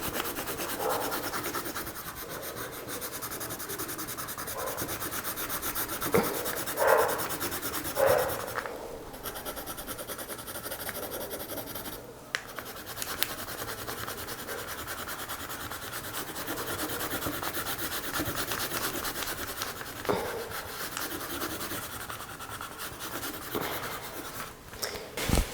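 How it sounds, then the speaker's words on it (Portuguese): Colored pencil shading paper in blue, a continuous close scratchy rubbing with back-and-forth strokes and brief pauses, steady and fairly quiet without talk. "Tô pintando aqui de azul."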